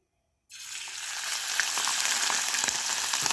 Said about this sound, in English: with the oil, you deep fry your omena